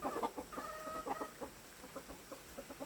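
Chickens clucking nearby, a run of short rhythmic clucks with a brief drawn-out call, moderately loud against quiet outdoor background.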